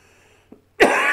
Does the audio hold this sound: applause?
no